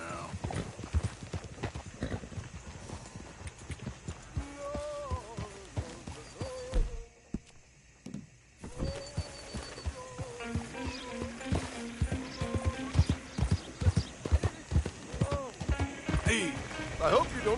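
Horse galloping in Red Dead Redemption 2, rhythmic hoofbeats thudding steadily throughout, with a voice talking and singing over the running hooves and a short break midway.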